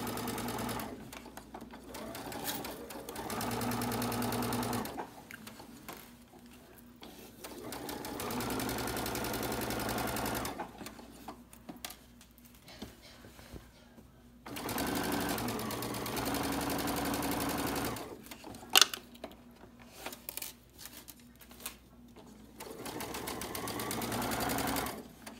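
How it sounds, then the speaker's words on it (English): A sewing machine stitches a pillowcase in several steady bursts of continuous whirring, each run lasting a few seconds and separated by short quiet pauses, close and clear with no talking. "When I get to the end, I'm going to back stitch to reinforce my stitches"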